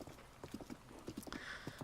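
Horse hooves clop along a road in Zelda: Breath of the Wild, a quick irregular trotting rhythm heard faintly under rain and game ambience.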